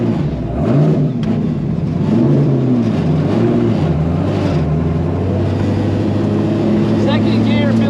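A 1000 HP supercharged LS-swapped Buick Grand National pulls hard in second gear, its loud engine droning and rising steadily from inside the car with a strong, continuous low roar.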